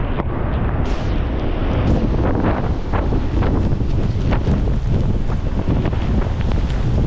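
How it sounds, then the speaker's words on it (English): Strong wind from a storm on a farm roars and buffets the microphone nonstop, a loud rushing blast with rough gusty surges and no voices. "Here comes wind, oh boy."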